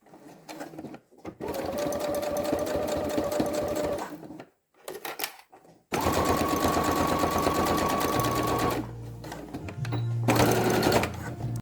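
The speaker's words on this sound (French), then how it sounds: "réalisez une couture de maintien à 5 mm du bord" A sewing machine runs a stay stitch 5 mm from the fabric edge with a stitch length of 3 to 3.5. It whirs loudly in long continuous runs broken by brief pauses.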